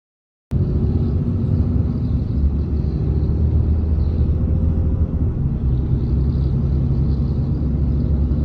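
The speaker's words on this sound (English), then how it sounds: "Mitch is just slowly rolling through the gears" A Cummins 5.9 diesel truck engine climbs a short hill in a steady, deep rumbling drone that starts abruptly and holds at an even loudness throughout.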